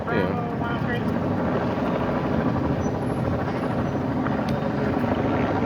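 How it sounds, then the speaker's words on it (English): Steady, loud rotor drone fills the scene, two police helicopters overhead with a constant low throb, while indistinct voices and street noise mix underneath at a serious crash scene on Seaver Street, Boston. "Got two choppers in the sky now"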